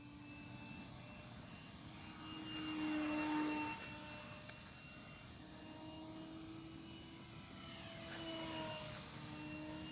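An FMS Ranger 850mm RC model airplane drones overhead with a thin electric motor whine, rising as it passes close around the middle and again near the end, fading between passes against quiet outdoor ambience.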